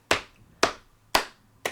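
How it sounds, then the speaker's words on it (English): Hands tapping and clapping in a hand jive, four crisp, evenly spaced slaps close to the microphone with short quiet gaps between them. "tapping the hands gently on the thighs and clapping them together"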